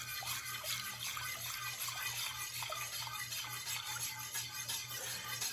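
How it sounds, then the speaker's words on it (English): About two cups of milk pour into a pot of melted chocolate for hot chocolate, a soft, continuous liquid trickle over a faint steady electrical hum. "put about 2 cups of milk in there"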